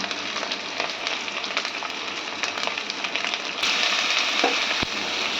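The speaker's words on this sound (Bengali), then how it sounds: "এবারে দিচ্ছি রসুন বাটা, এবারে লবণ দিলাম" Garlic paste and salt sizzle in hot oil in a pan, a steady close frying hiss with fine crackle that brightens partway through, with no voices.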